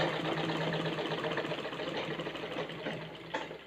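A sewing machine stitches a semi patiala pant, running in a fast continuous mechanical whir at close range, easing slightly toward the end before a short clunk.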